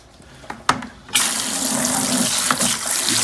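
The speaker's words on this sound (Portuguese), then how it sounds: "que até encher o balde, no caso," Tap water gushes steadily into a 20-litre bucket being filled with tap water for pH conditioning, a loud continuous splashing rush that starts abruptly after a couple of faint knocks.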